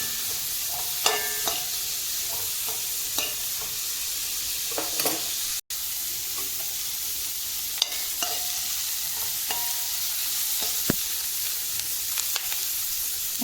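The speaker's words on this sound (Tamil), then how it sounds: "வெங்காயம் பொன்னிறம் ஆகிற வரைக்கும் நல்லா வதக்கிக்கோங்க." Onions and green chillies sauté in a pan for egg kothu chappathi, a soft continuous sizzle broken by repeated scraping stirs of a spatula, close and without talk.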